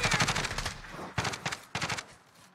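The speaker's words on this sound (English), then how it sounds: "Oh, I'm getting shot." Automatic gunfire in Call of Duty: Warzone comes in several rapid bursts of close, loud shots separated by short pauses, with a dense rattle at the start and choppier volleys after that.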